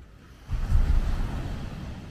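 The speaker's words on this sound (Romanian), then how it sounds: "Oh, ce valuri mari." Big sea waves breaking on a beach at 2 Mai on the Romanian coast, a sudden rushing surge of surf that swells loud and then slowly washes back, with wind buffeting the microphone.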